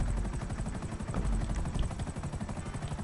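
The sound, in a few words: helicopter in the video game GTA Online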